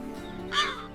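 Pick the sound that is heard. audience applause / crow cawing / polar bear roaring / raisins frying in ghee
crow cawing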